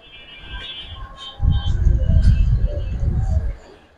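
White-eyed pigeons in a seller's collection, low rounded cooing close by, a couple of soft coos building into a longer throaty burst lasting a few seconds.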